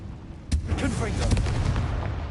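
A Confringo blasting spell explodes in the Hogwarts Legacy video game, a sudden loud burst followed by a couple of seconds of dense crackling, booming rumble with fainter overlapping blasts.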